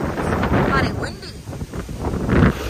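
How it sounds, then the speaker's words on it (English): Wind gusts buffet the microphone outdoors on a warm seaside vacation, a rough, uneven rumble that swells and fades across the moment while people talk over it. "It's kind of windy."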